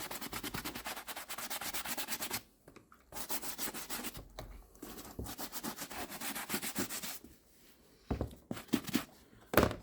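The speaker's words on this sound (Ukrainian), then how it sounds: "Чобітки так само протираємо щіточкою" Small brush rubbed over a suede Ugg boot in quick close strokes, a dry bristly swishing in bursts separated by short pauses and handling noises.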